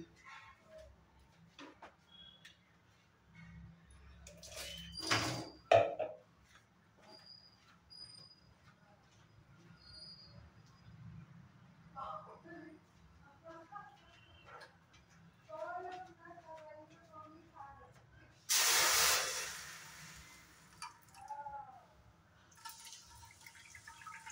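A brief burst of cold water splashing into a kadai on the stove, amid scattered clinks and faint background murmurs.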